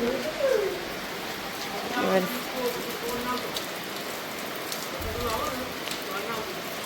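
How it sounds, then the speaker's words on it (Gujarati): Dense, steady hiss of heavy rain pouring down, with a few brief voices and faint bird calls over it. "અને વરસાદ ચાલુ થઈ ગયો છે ધોધોકાર"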